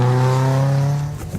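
A hillclimb race car with a Ford Sigma 1.6 engine roars past the finish at Harewood, its loud, tonal engine note holding steady then dropping away as it passes close by.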